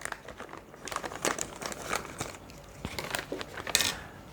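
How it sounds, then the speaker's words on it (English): Plastic bags of frozen string beans are cut open in a kitchen, giving steady close crinkling and rustling of plastic with small crackles throughout, no voices. "I'm going to cut the tops off of the bags of my frozen string beans"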